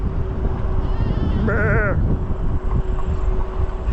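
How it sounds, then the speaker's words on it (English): A single wavering goat bleat rises briefly over a steady, loud rumble of background noise while riding an e-bike. "The goats, man, they are funny. You hear them things talk."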